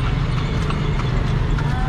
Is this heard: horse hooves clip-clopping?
yes